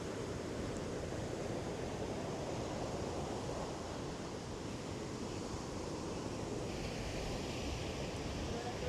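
Strong wind roars against the microphone with a broad, constant rush, mixed with surf by the sea at a fishing village before dawn, loud and unbroken throughout.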